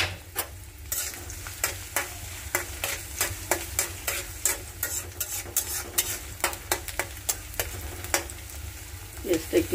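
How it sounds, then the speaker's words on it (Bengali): Onions frying with garam masala in a pan sizzle steadily up close while a spoon stirs and scrapes in frequent sharp strokes throughout. "পেঁয়াজটা একটু লাল লাল করে ভেজে নিব।"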